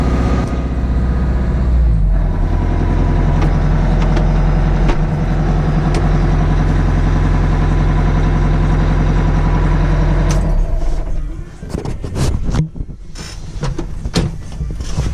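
A Kubota LX3310 compact tractor's engine idles loud and close in a steady, rough low rumble for about ten seconds, then cuts off, leaving scattered clunks and mechanical knocks.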